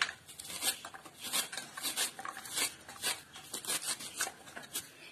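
A knife chops cleaned taro stems for a traditional Kerala thal curry, heard as rapid, close, irregular tapping of the blade striking a cutting surface, steady and unaccompanied by speech.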